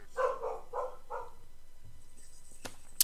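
A dog barks outside while chasing a cat, giving about four quick, faint barks in a row from a distance, followed by quiet and a few small knocks.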